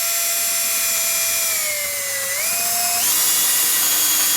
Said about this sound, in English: I'll just continue drilling on from this side with this 3/8 inch Forstner bit